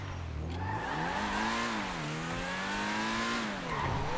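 A Countach-like supercar driving in GTA V Online, with a steady, loud engine note that rises and falls as it revs and shifts, plus a faint tire squeal, alone without talk.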